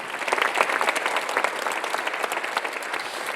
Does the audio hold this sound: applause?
yes